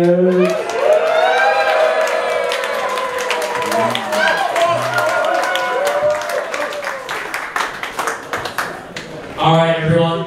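A crowd at a Pride of the Hide 2022 contest cheers, whoops and claps for a contestant while a loud voice booms over the noise, with applause growing into sharp, dense clapping near the end.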